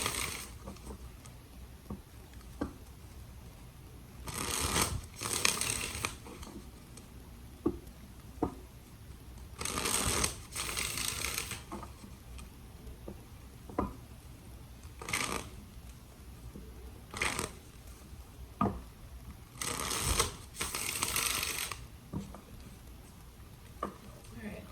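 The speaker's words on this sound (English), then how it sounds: "Three more shuffles." Tarot cards are shuffled in repeated bursts, each a quick riffling flutter, separated by quieter pauses with faint taps and handling noises.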